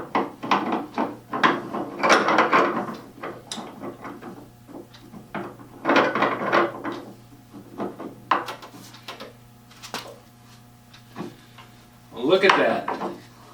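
Small pipe wrenches clank and scrape against metal while working to remove a bench vise handle in a workshop, with irregular bursts of knocking and rubbing separated by quieter pauses.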